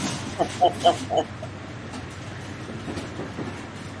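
A short run of whistle-like tones opens, then a low rumbling train sound continues quietly underneath, steady and moderately distant.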